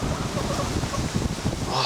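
Dense, blustery wind roars across the microphone in a constant rumbling wash, close and loud.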